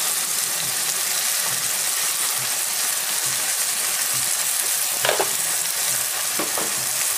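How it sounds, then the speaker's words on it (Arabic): Rice and vermicelli are stir-fried together in a hot pan, a continuous close sizzle with occasional scraping and stirring clinks. "أخد الرز بسرعة كده تشويحة مع الشعرية، أسخن حباية الرز كمان"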